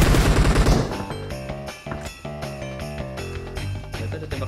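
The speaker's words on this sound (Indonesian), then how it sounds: "Ternyata ada tembakan lagi di gudang 3." A burst of rapid gunfire in PUBG Mobile, followed by a tinkling, rhythmic musical jingle with sharp percussive hits.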